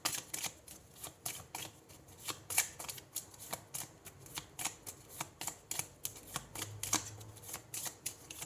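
Tarot cards being shuffled and drawn by hand, a rapid run of crisp flicking riffles and snaps, close and fairly quiet, with no talking.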